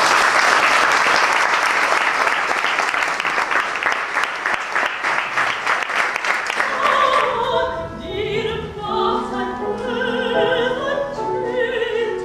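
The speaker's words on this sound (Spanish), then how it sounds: "Vamos a hacer un fuerte aplauso porque si no, no vienen." A concert audience at a chamber music performance applauds with loud, dense, sustained clapping that fills the space, then fades into scattered claps and murmuring crowd voices toward the end.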